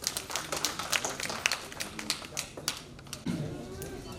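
An audience at an event claps for a guest: a quick patter of scattered, fairly faint hand claps that gives way to a voice speaking.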